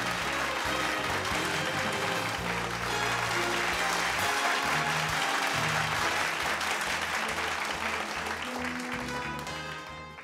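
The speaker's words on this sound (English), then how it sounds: "Let's have a thunderous round of applause for him." An awards-ceremony audience at the SUFI Steel Awards 2018 claps loudly and steadily for about ten seconds over a bed of background music, tapering slightly at the end.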